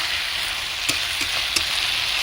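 Gondhoraj lemon chicken cooks in oil over low heat, giving a steady, even sizzling hiss with a couple of soft clicks and pops; no one speaks.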